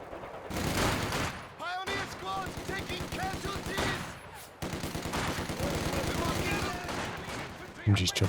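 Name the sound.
machine gun fire in video game Company of Heroes 2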